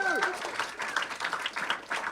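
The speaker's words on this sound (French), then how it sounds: "Maxence Rigotier, sous vos applaudissements." An audience applauds to welcome a guest, clapping dense and fairly close, with a voice and brief tonal sounds over the start.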